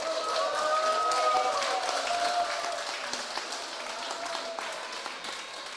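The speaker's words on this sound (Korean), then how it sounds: "서로 힘찬 환호와 박수 보내주시기 바라겠습니다" Party members at a Democratic Party rally in Korea applaud and cheer together, a dense wash of clapping with raised voices, loud at first and then easing slightly.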